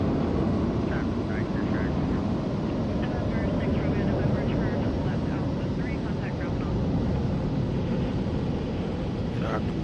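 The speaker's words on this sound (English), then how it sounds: "Sounds like that's the Breeze airplane taking off." A Breeze Airways airliner takes off at an airport near Provo, Utah, its engines producing a steady, loud broadband roar that runs through the whole stretch with only a few faint tonal traces on top.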